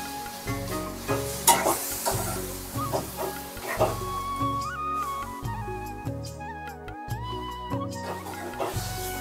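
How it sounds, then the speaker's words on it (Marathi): Moori fish coated in masala is sautéed and stirred in a pan, with steady sizzling and a few spatula scrapes partly buried under loud background music. "आईने आता ही जी आपली मोरी होती जी व्यवस्थित साफ करून मसाला लावून मुरवून घेतलेली होती ती आता याच्यामध्ये टाकलेली आहे"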